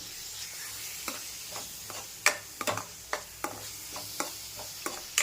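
A coconut barfi mixture with cardamom powder is stirred in a pan, soft scraping strokes and light taps of the spoon coming at an uneven pace over a faint, quiet sizzle.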